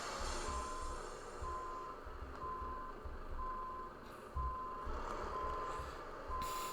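Reversing beeps from a truck in Euro Truck Simulator 2 repeat steadily over a low engine rumble. Short tones come at an even pace while the truck grumbles and surges underneath.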